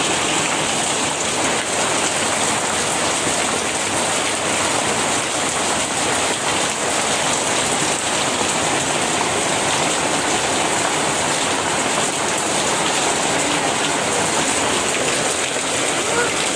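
Rain falls steadily outside a home, a loud unbroken wash of water noise that stays even from start to finish, with a faint hint of voices buried beneath it.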